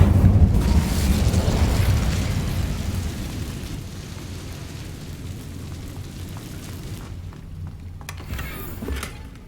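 An Incendio fire spell erupts in Hogwarts Legacy with a loud, rumbling blast that gradually fades into a crackling hiss, then a couple of sharp pops near the end.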